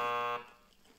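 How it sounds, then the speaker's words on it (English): A harsh electronic buzzer sounds once, loud and steady for about a third of a second, then cuts off and leaves a faint room tail, signalling the final five minutes. "that's the buzzer. It means it's time for the final 5"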